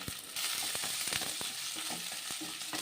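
One large onion and five garlic cloves sizzle in oil in a pan for Chettinad fish curry, a constant loud frying hiss broken by repeated sharp spatula taps and stirring scrapes.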